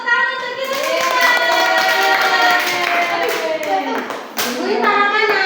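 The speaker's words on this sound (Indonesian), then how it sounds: "tepuk tangan untuk kita semua" Hands clapping together in a primary school classroom during a microteaching lesson, a steady burst of applause from a group with children's voices and chatter rising over it throughout.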